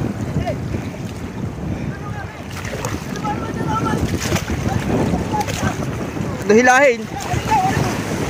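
Sea waves wash and slosh around a small fishing boat in open wind, a continuous rough rush under shouting crew voices, with a louder surge near the end.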